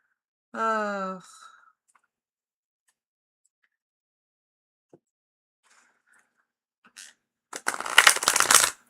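Oracle cards shuffled softly in a quiet room during a tarot and oracle reading, giving a brief papery riffle near the end after a short spoken phrase and a long hush.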